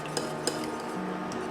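Pastry cream for a chocolate Yule log being stirred in a pan as it cooks, a spoon or whisk scraping and tapping softly with two brief clinks near the start over a low, steady kitchen background.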